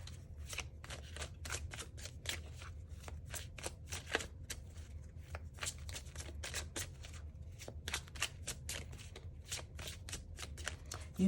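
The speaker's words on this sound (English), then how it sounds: "We're going to get one final oracle card out for you," Oracle cards are shuffled in a steady run of crisp riffling flicks, close and fairly quiet over a low background hum, with no voice.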